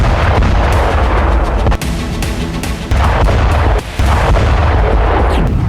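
Heavy, booming blasts and rumbling explosions from Ukrainian drone strikes, loud and dense, with a few sharp breaks between bursts and no talking.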